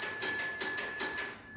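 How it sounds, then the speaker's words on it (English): A railway block signalling bell rings a code on an absolute block instrument: three sharp, evenly spaced strikes, each with a short ringing decay. "four bells for an express"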